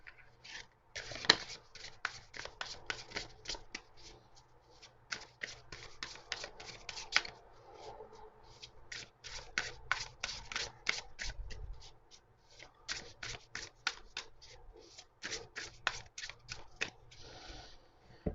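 A full-size tarot deck is shuffled by hand, giving crisp rapid card riffles and soft rubbing in irregular bursts, close and fairly quiet, continuing for the whole stretch with brief pauses.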